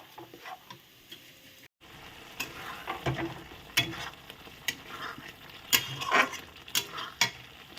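Ground spice paste with peas sizzles and fries in a pan, with soft crackling and scattered clicks and scrapes of stirring.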